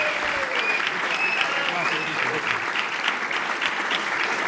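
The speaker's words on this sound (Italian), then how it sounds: "Un grande applauso." Loud sustained applause from an audience at a village event in Ponzano Veneto, dense clapping throughout with a voice speaking over it.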